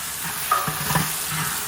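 Meat dropped into a hot pan for a home Eid meal, sizzling and frying softly while being stirred with a few scraping clatters, close and short.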